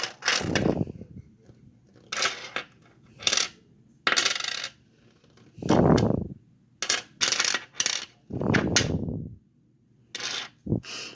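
Pennies are spread out and dropped onto a surface in several separate bursts of jingling, clattering coins, close and clear with quiet gaps between them.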